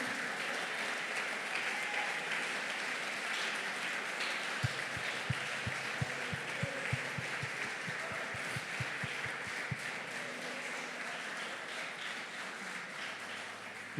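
Congregation at a family church service applauds in a steady, moderately distant wash of clapping, with a short run of rhythmic thumps in the middle and a faint murmur of voices underneath.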